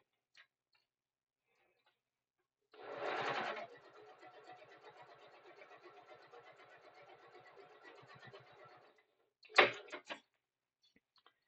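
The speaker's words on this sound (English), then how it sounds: "I'll show you that as I do it on my sewing machine." Domestic sewing machine stitching a quarter-inch seam on a fabric bag, a short burst of fast, even mechanical whirring with rhythmic needle ticking, running for several seconds close up, followed by a couple of sharp handling clicks.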